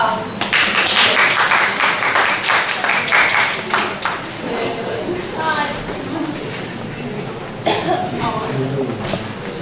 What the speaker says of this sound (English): Let's please welcome them with a big applause.